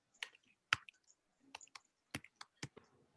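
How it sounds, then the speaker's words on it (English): Keys clatter on a computer keyboard in short, irregular bursts of crisp clicks separated by brief pauses, close and fairly quiet with no voice over them. "I'm busy typing in my URL"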